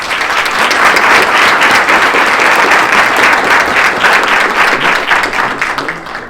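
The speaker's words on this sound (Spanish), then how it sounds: "Aplauso fuerte para la doctora Alicia" A forum audience applauds an invited academic with dense, loud, continuous clapping throughout, close and steady with no pause.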